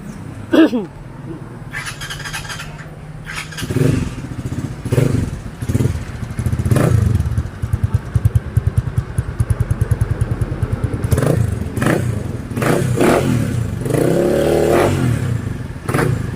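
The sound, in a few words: motorcycle revving with aftermarket chicken pipe exhaust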